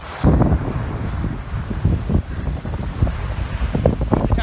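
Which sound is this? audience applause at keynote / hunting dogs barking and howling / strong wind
strong wind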